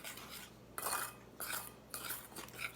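Bean flour and salt are stirred together in a bowl. Three or four quiet bursts of scraping and rubbing come in a loose rhythm, with short pauses between them and no talking.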